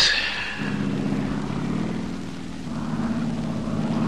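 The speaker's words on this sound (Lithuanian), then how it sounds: "lėktuvas!" A propeller plane drones overhead, its engine tone shifting as it passes, loud and steady throughout.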